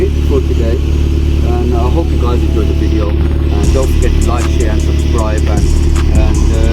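A car with a resonator delete idles loudly and steadily with a deep exhaust drone, heard close up while someone talks over it.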